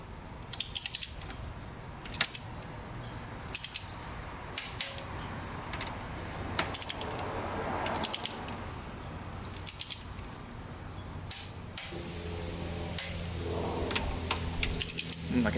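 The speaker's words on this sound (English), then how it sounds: "I'm going to torque them to 14 foot-pounds." A torque wrench tightens bolts to 14 foot-pounds on a Yamaha YFZ450 quad, giving crisp mechanical clicks at a steady, regular pace over quiet workshop background.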